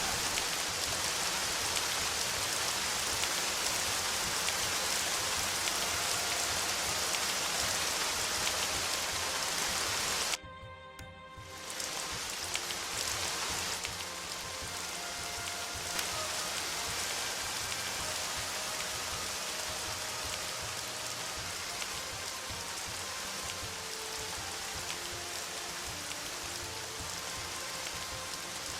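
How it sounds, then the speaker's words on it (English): Steady, fairly loud rain falls continuously as a dense hiss, briefly cut out for a moment before resuming just as evenly, with no voices present. "Pardon me on the rather noisy rain."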